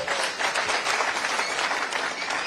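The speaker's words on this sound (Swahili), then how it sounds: "Makofi kwa Bridget" An audience at a meeting with people living with disabilities gives Bridget a round of applause, dense, even clapping that holds steady and fairly loud from start to finish.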